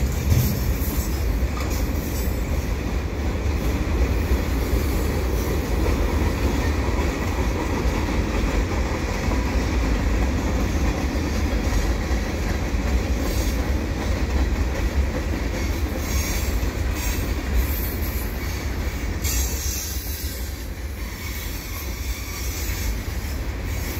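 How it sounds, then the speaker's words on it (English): Canadian Pacific freight train rolling past at the Dorval ramps, a steady, loud rumble of wheels and rail cars with clickety-clack and faint squeal, sustained for the whole span and easing slightly near the end. "Looks like the first train is done,"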